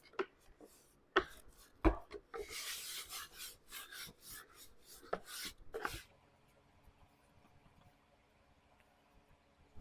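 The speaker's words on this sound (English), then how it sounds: "we're going to go ahead and do some wax on this piece also" Wax is rubbed onto a painted wooden furniture piece with a series of dry, rasping strokes, some sharper than others. The strokes are close and fairly quiet and stop partway through, leaving near silence.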